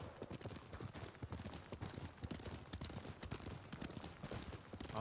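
Rapid, steady clip-clop of galloping horse hooves in the video game Ghost of Tsushima, close and continuous, with a dense rumbling texture beneath.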